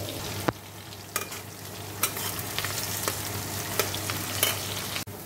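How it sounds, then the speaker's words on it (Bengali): Eggplant slices frying in oil in a pan, a continuous close sizzle with sharp crackles and pops spaced through it and a low steady hum beneath. "এদিকে দেখো 2 পিস বেগুনটা ভেজে নিয়েছি আর এই বেগুনটা ভাজছি"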